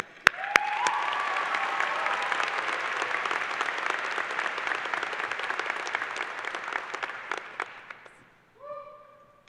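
Commencement audience applauding to welcome a graduating student speaker at a College of Liberal Arts & Sciences ceremony: sustained dense clapping from a large crowd, rising quickly and fading out after about eight seconds before a voice begins.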